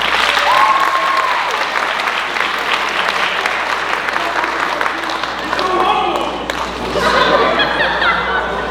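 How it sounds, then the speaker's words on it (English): A college audience at a Mr. Juniata pageant bursts into loud, sustained applause with cheers and chatter mixed in, continuing for several seconds close around the listener. "can we give a big round of applause to Wills and Prats?"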